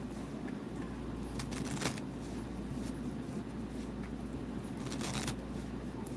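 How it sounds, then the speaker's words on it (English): Playing cards riffle-shuffled on a table during a solitaire and card-magic session, a couple of quick papery bursts standing out over a steady low background hum. "Two table shuffles, and then we want to do a strip cut"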